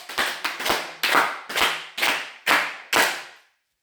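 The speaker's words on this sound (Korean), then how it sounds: "박수를 7번 쳐서" A church camp congregation claps in unison exactly seven times, sharp loud synchronized claps in an even rhythm, each with a short room echo, then silence.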